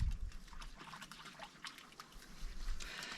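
A dog splashes and stomps about in shallow water on a hot day in the Glas Maol Munros hills, giving soft continuous sloshing and trickling with faint drips and splashes close by, with no talking.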